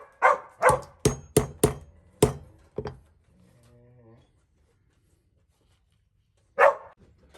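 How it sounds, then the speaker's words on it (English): A rapid burst of about seven loud, close dog barks, then quiet with a low murmur, and one more bark near the end. "What are you barking at?"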